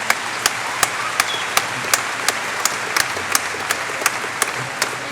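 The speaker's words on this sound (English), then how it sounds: "that's your parents and grandparents clapping" A commencement crowd applauds steadily, a dense wash of clapping with a few sharp, louder claps standing out in a regular beat.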